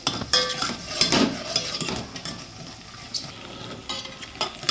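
A spoon stirs ginger garlic paste into sambar in a pot, with soft scraping and clinks of metal against the vessel and a faint sizzle beneath, in uneven close strokes with no talk.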